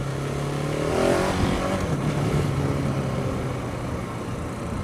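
A KTM 690 Enduro R motorcycle accelerates in second gear on a road, the engine tone climbing and then steadying under heavy, continuous wind roar close to the rider.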